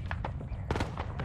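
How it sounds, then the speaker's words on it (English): Enemy artillery fire in Arma 3 lands as a rapid cluster of muffled booms and thuds over a rumbling low background. "That's enemy arty. That's hostile arty."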